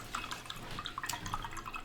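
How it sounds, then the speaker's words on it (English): A paintbrush is swished and rinsed in a container of water, producing soft close-up drips, plinks and sloshing splashes for a couple of seconds. "And washing that brush off."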